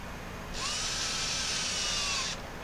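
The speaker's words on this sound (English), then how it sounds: "I think these are 4mm screws, but I'm using a T25 Torx bit." A power driver fitted with a T25 Torx bit runs on the bar screws of a Husqvarna 525PT5S chainsaw, giving one steady high-pitched whir of about two seconds that spins up and winds down, up close with no talk.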